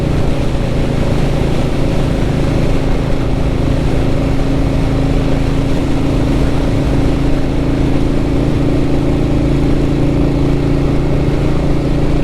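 Vintage Royal Enfield Bullet motorcycle cruising at about 80 km/h, a loud, steady engine drone with a low thumping hum and wind rush throughout, no talking.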